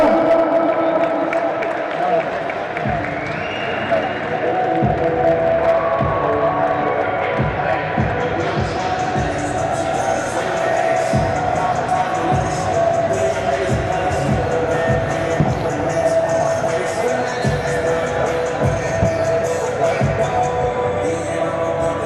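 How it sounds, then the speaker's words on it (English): Crowd cheering and applauding at an Invincible Fighting Championship fight night, a sustained broadband roar that swells louder around the middle and stays dense throughout, with an announcer's voice audible beneath it. "One big cheer here for Sharpen."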